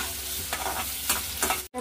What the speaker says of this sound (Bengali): আমি এবার এর মধ্যে দিয়ে দিলাম কুচনো পেঁয়াজ